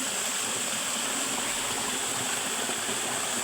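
A small mini waterfall stream flows with a constant, dense rush of water, steady and even throughout with no other sounds on top.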